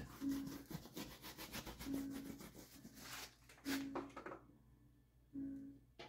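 A shop rag rubs out an acrylic glaze, making soft, close scrubbing and rubbing strokes in a loose rhythm, with a few thumps of the surface and a faint repeated low tone, no voices, ending in near quiet.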